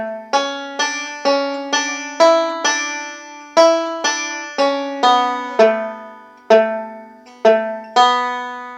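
Plucked banjo notes pick out the bright melody of "Cuckoo's Nest" at an even, moderate pace, each note ringing and decaying, played solo with no talking.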